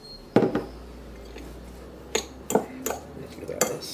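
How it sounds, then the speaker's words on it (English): A spoon clinks and scrapes against a bowl while potato salad with peas is stirred, a few sharp knocks spaced irregularly between softer scraping, close and clear with no talking. "Give that a stir around."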